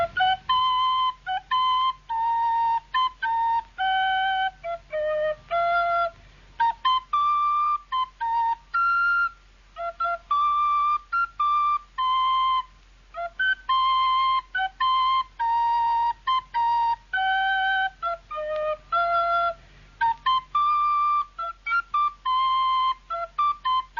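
A melodic tune whistled by a person, clear and close, with steady phrases of sustained pitched notes and short breaks running throughout, alone with no talk.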